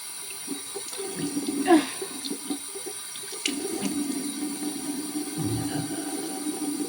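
Tap water running into a sink during a night-time face-washing routine, a soft continuous splash and trickle with a few louder splashes, fairly quiet and close.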